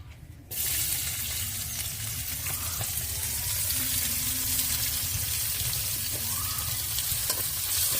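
Onions fry in hot oil for a fish curry. A loud, continuous crackling sizzle starts abruptly after a brief quiet moment, then holds steady with light stirring scrapes and no talking.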